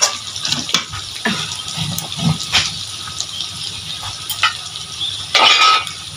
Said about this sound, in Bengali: মাংসটা কষানো হয়ে গেছে, জল দিয়ে দিতে হবে।